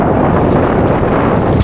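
Strong wind sweeps across the water during kayak fishing, a loud unbroken roar buffeting the microphone with no voices.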